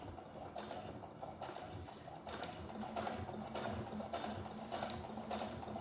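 Domestic sewing machine stitching with a twin needle, 2 mm apart, on a 3.5 stitch length; a steady, fast mechanical chatter with regular rhythmic pulses running continuously at close range, no talk.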